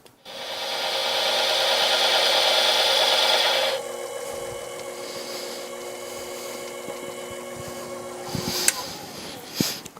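A metal lathe boring out and enlarging a hole, with a loud continuous cutting whine for about four seconds, then a quieter machine hum with a few sharp clicks and knocks.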